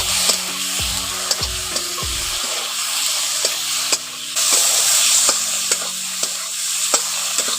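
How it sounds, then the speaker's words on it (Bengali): Turmeric and chili powder frying with tomato in a pan, a bright steady sizzle punctuated by sharp spatula scrapes and knocks against the pan, heavier clatter at the start. "হলুদ গুঁড়ো লঙ্কা গুঁড়ো দিয়ে একটু ভালো করে ভেজে নিচ্ছি।"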